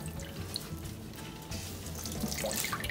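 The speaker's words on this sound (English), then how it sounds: "The steamed cauliflower we have to put in a cloth and we have to take out its water" Water trickles and drips steadily, a close, wet splattering that builds slightly toward the end, as steamed cauliflower is squeezed in a cloth.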